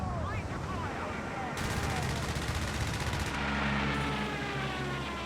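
Strafing gunfire in the real-time strategy game Company of Heroes 3 rattles out in a fast, dense burst of shots, followed by a low rumbling roar, with a voice talking over parts of it.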